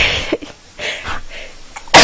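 A woman sneezes during a live stream: breathy, uneven sniffs and muffled bursts build up, ending in a loud, sharp sneeze right at the close.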